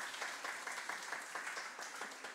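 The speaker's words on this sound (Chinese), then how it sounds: "再次掌声" Audience applause at an Asia-Pacific game developers' forum, a steady wash of many hands clapping in a hall, moderately loud and even throughout, with no talk over it.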